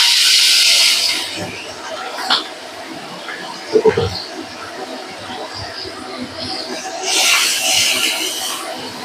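Shrimp coated in turmeric and salt hit hot oil in a pan, giving loud bursts of sizzling at the start and again near the end, with quieter hissing, clatter and a voice in between.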